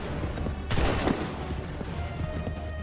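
A line of muskets fires a volley in Assassin's Creed III, a loud ragged burst of overlapping shots followed by a rumbling battlefield din.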